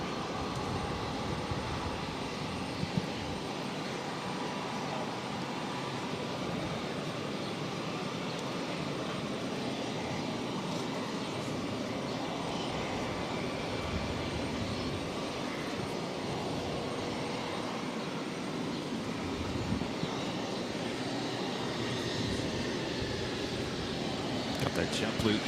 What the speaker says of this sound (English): The JetBlue E190 now heading into the gates.